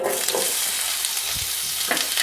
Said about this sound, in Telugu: ఆయిల్ హీట్ ఎక్కిన తర్వాత ఇప్పుడు ఆనియన్స్ యాడ్ చేద్దాం